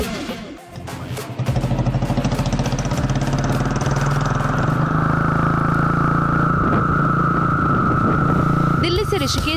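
Motorcycles of a ladies' biker group setting off on the Delhi–Rishikesh highway, engines starting after a brief dip then holding a loud, steady, close droning rumble for most of the stretch, with speech-like sounds mixed in.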